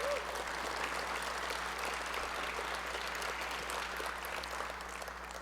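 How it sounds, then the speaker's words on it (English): A studio audience at a public radio talk show claps in sustained, even applause, dense and moderately close, tapering slightly toward the end over a low background hum. "you're clapping there"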